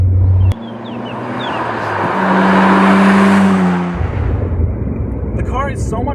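A right-hand-drive Nissan Skyline GT-R being driven. Its engine drones steadily from inside the car, then swells as it accelerates and eases off, with a constant road roar underneath.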